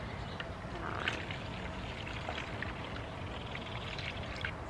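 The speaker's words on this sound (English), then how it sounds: "I'm just gonna pour some in there and make sure that it's a good amount" Liquid pours steadily into a bird nest box for cleaning, a soft continuous splashing trickle heard close up and fairly quiet, with no talking.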